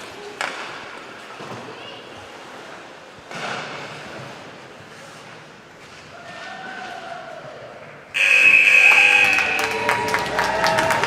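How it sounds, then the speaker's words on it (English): A loud final buzzer sounds at the close of an under-16 women's ice hockey game, Whitley Bay against Sheffield Shadows, cutting in after a stretch of arena crowd murmur and commentary, then holding steady above the noisy crowd. "the final buzzer goes"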